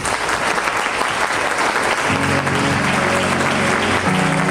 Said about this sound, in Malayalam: ആ ഉറപ്പിൻ്റെ അടയാളമായിട്ട് നന്നായിട്ടൊന്ന് കൈയടിച്ചാണ്